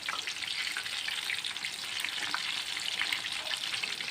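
Chicken pieces frying in hot oil, a dense, steady crackling sizzle heard up close with no voices.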